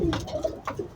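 Pigeons of a fancy line kept at home, a hen and a cock, coo in soft, close, repeated low murmurs, a few throaty phrases over about a second.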